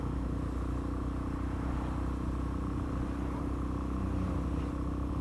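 A 125cc supermoto motorcycle engine idles at gentle low throttle on a summer evening ride, giving a steady, close, low rumbling drone that holds even and unbroken throughout with no revving, alone without talk.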